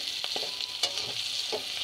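Katla fish pieces, about thirty of them, frying in hot oil for bhuna: a steady, close hissing sizzle with occasional crackles and pops throughout, no voices.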